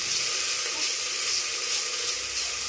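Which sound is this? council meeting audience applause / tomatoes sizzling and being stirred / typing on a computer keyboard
tomatoes sizzling and being stirred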